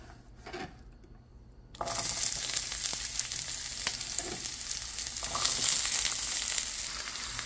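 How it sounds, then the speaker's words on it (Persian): A soft clunk, then a sudden steady hiss and crackle as chopped onions start frying in coconut oil, continuing loud and close, with occasional stirring sounds. "روغن نارگیل یک قاشق و بعد پیازهای خرد شده رو بهش اضافه می کنم"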